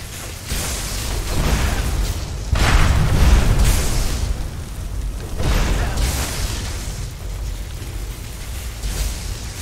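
Incinerate fire spell cast in Skyrim, heard as a series of about four loud, roaring bursts of flame that swell and fade one after another, with no one speaking.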